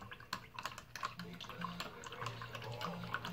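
Paint rinse water being swapped out while customizing an action figure: soft trickling and dripping with small clinks and taps, close but quiet, under a low background hum.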